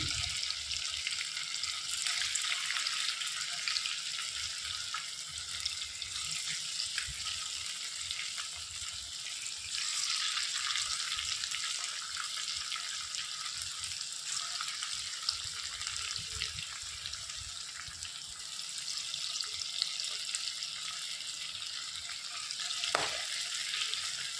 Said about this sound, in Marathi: कमी गॅसवर चांगलं तळून घेतलं आहे आपण लालसर होतं